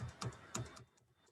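Numbers are typed on a computer keyboard in short, quiet bursts of a few clicking keystrokes, close and isolated.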